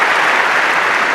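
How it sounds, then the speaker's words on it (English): Loud, dense crowd applause for a tennis player at Wimbledon, a continuous roar of clapping filling the whole moment with no talk over it. "He deserves an applause, definitely."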